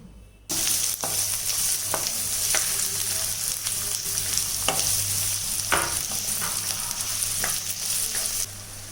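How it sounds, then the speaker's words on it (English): Onion dropped into hot oil in a pan after peanuts were fried, a sudden loud sizzle that stays dense and steady, with repeated spatula scrapes and taps over it, close and without talk. "in the same oil now we have to put the onion"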